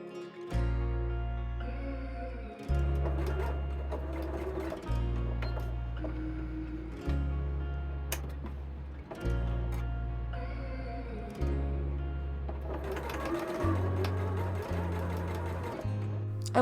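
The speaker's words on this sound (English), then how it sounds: "And then after that, the side seams are sewn." A sewing machine stitches the side seams of a double gauze shirt in repeated bursts of steady whirring, each run a couple of seconds long and separated by brief pauses, loud and close with no talk.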